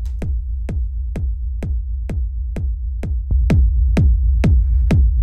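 Unprocessed techno kick drum pounding in a steady four-on-the-floor pulse, eleven punchy low thumps, loud and dry, with a faint extra click partway through and slightly fuller hits in the second half.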